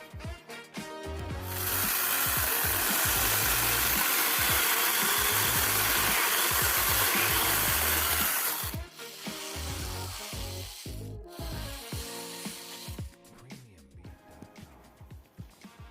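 An INTERTOOL WT-9110 battery mini chainsaw with a sharp chain whines while cutting through apricot wood for several seconds, then stops; afterward handling clatter and short bursts of the motor follow.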